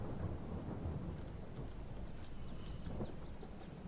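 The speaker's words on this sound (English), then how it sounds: "You shouldn't be combining when it's raining." Steady rain with thunder rumbles in the farming video game Farming Simulator 22, a continuous broadband wash of rainfall with low rolling thunder swelling underneath, no talking.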